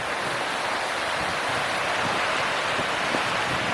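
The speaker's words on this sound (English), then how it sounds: "It's nice having the river next to where you're walking" A river flowing beside a walking path near a small weir, a dense continuous rushing wash of water, steady and fairly loud.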